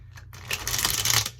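A deck of tarot cards being shuffled by hand, a quick riffling flutter that builds into a dense, close burst of papery slaps lasting about a second.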